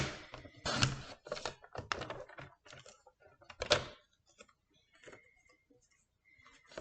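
Scraps of white paper cut down to 9.5 by 13.85 for a handmade card give a close series of crisp, uneven snips and rustles at a quiet level, with short pauses between them and no talking.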